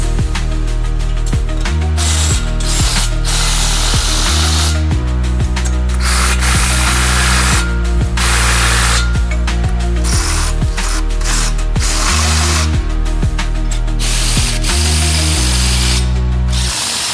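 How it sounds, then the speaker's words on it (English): Ratchet wrench clicking steadily while tightening the frame assembly bolts on a Vander M14 machine, loud and close, in repeated bursts separated by short pauses, with no talking. "You can now go ahead and tighten all of your frame assembly bolts."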